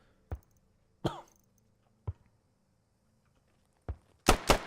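Scattered sharp thumps and a short coughing burst near the end during a game commentary, isolated sounds separated by silence, close to the microphone.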